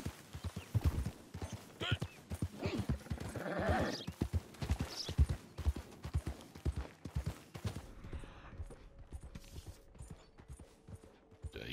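A horse is ridden in the Western game Red Dead Redemption 2, its hooves clopping in a quick, steady rhythm close by, with a voice talking over the early part before the hoofbeats thin out.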